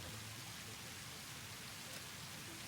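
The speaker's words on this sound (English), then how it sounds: "Rain is something I'd wanted for a long time." Rain falling in the video game Satisfactory, a soft, even patter and hiss that runs steadily throughout at a quiet level.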